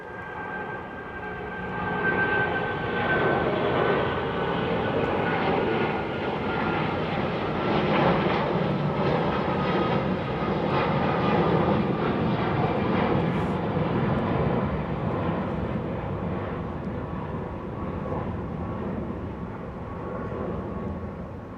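A jet airliner takes off from runway 27R at London Heathrow, its engines producing a loud, sustained broadband roar that swells early and holds steady throughout, heard from outdoors with no talking.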